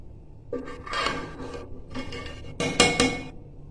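A spoon stirs meat-free rice pulao in a cooking pot, making scraping, rubbing strokes in several bursts with brief gaps, and a louder metallic scrape near the end. It is close and steady, with no talking.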